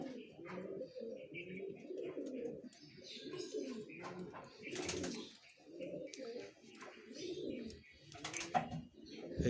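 Pigeons coo repeatedly in a loft of fancy breeding birds, a steady overlapping run of low throaty calls with occasional chirps and faint wing flutters close by, no talking.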